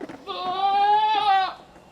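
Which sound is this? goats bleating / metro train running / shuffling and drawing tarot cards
goats bleating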